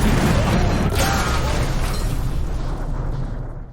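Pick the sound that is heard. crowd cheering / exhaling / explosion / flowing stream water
explosion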